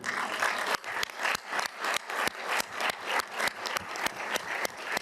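A summit hall audience applauds Brazil's return to CELAC, a sustained wash of clapping punctuated by rapid, sharp mechanical clicks that recur steadily throughout at moderate loudness.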